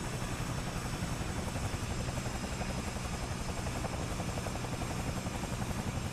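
Cowan Sim CS222B Airwolf helicopter in a flight simulator game, a steady, loud rotor drone with rhythmic blade chop and a constant turbine whine running throughout, no voices.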